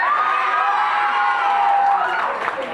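A crowd at a live emcee's applause contest in Singapore cheers and applauds, a loud sustained roar of shouts and whoops that holds steady for a few seconds before easing slightly.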